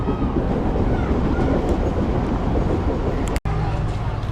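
A packed train passes through Dharavi slum in India with a loud, continuous close rumble and rattle that briefly drops out near the end.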